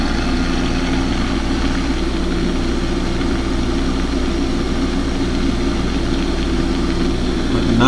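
A red-collar 1086 tractor with front fenders and a chrome stack idles steadily, its loud, low engine drone unbroken and close throughout.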